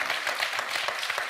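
A television quiz show audience applauds contestant Arthur, a dense burst of steady clapping from a studio crowd, loud and continuous throughout the short stretch.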